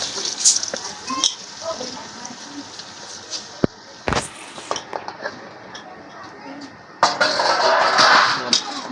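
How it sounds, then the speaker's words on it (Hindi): Fried paya stirred into sizzling masala, a metal spoon scraping and clinking against the pot in irregular bursts over a frying hiss, loudest near the end. "अच्छी तरह से हिला लेते हैं।"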